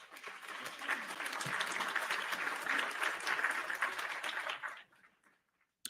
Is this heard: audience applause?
yes